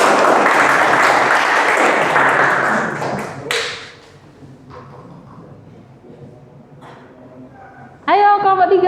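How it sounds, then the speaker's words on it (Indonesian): Applause from a classroom audience for a student group at a university teaching practicum, loud and dense for about three seconds before fading out, followed by quieter room sounds and a voice. "Beri tepuk tangan dulu untuk kelompok 3 biar semangat."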